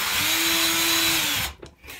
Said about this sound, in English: I'm just going to drill one side